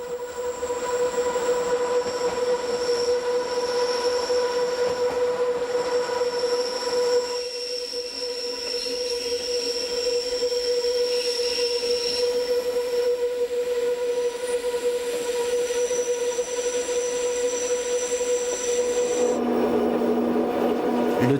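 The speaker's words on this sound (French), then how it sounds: "Le train émerge sous l'une des arches du pont, 20 mètres en dessous de la voie supérieure" The Bernina Express rumbles along the Swiss mountain line beneath the arch of a stone viaduct, giving a steady, loud rolling and grinding of wheels with a high ringing squeal throughout, shifting in tone near the end.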